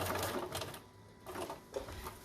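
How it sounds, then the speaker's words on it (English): A sewing machine runs steady straight seams across a fabric concealed-carry belly band, whirring in two or three bursts separated by short pauses, fairly quiet and close. "And I'm going to continue to sew straight."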